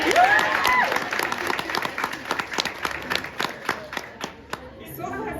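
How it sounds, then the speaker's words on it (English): Conference audience at a women-in-business event claps along as the speaker starts, a crowd of claps with some chatter, and a voice heard briefly at the start. "Number 3, you are going to clap for me"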